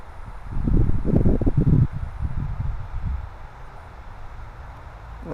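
Wind gusting around a Hubsan quadcopter drone, with loud low rumbling buffets on the microphone that swell early and then settle into a softer steady blowing.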